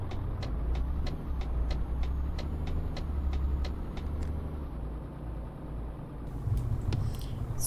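Heavy truck engine in Euro Truck Simulator 2 hauling a road milling machine as heavy cargo, a steady low drone with a regular ticking indicator, close and alone with no talking.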